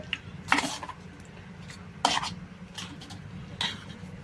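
Salt mixed into gongura chutney, three distinct scraping, clinking stirs of a spoon against a bowl spaced a second or so apart over a quiet background.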